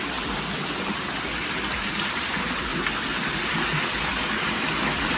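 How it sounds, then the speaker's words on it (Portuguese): Water pours as a small waterfall into a stone hot tub, a steady close rushing splash that stays constant throughout. "Aí ele vira essa cachoeira aqui também"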